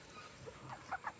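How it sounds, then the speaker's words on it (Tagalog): Backyard chickens on a farm clucking softly, a couple of short clucks near the end over low ambient noise, faint and close by. "Tingnan mo naman yung mga manok ko."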